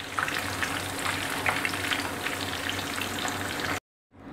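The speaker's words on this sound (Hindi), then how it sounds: "कबाब फ्राई हो गए हैं, अब हम इनको प्लेट में निकाल लेंगे।" Beef kebabs frying in a pan for Lahori hareesa, a loud steady sizzle with crackling oil pops that runs without talk, then cuts off abruptly near the end.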